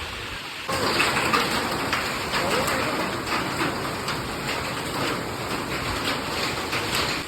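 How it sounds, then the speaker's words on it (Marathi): An April hailstorm pours down outside in a steady, dense roar of falling hail and rain that starts abruptly and continues unbroken throughout. "एप्रिल महिन्यात पाऊस आणि असा तसा नाही तर गारांचा पाऊस"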